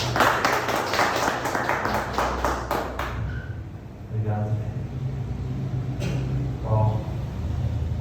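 A church congregation claps briefly in a burst of overlapping hand claps that dies out after a few seconds, followed by a voice speaking over a low hum.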